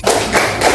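Rhythmic group clapping chant by children in a classroom, several quick hand claps from many people in a steady beat, loud and close.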